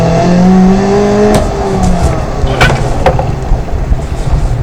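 An off-road car in BeamNG.drive revs its engine in a rising whine that breaks off, followed by a few sharp knocks and rattles as it strains over rough ground, loud and close.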